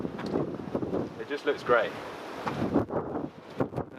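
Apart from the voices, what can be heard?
wind blowing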